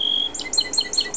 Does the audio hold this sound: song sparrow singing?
yes